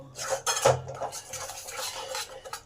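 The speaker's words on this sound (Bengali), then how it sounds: "এবার সমস্ত কিছু একসঙ্গে ভালো করে কষে নেব" Tomato paste and spices are stirred in a pan, a spoon scraping and clinking against the metal in uneven close strokes, with one sharper knock near the start.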